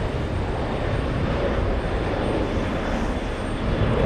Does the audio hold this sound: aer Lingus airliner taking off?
yes